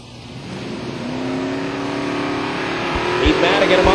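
Mustang drag race car roaring at Silver Dollar Raceway, a loud sustained engine drone that climbs steadily in pitch and volume over a few seconds, with an announcer's voice over it.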